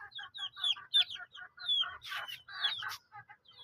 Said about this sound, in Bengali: এবং নিচে কিছু মুরগি রাখা হয়েছে।